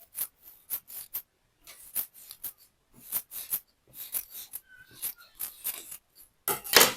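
Scissors snip steadily through Ankara fabric in short, crisp cuts, close up, with brief pauses between strokes.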